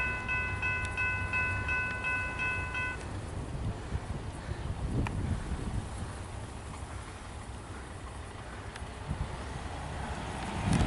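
A train on a Melbourne railway line approaches with a steady rolling rumble, a brief horn-like tone sounding early before the noise swells toward the end.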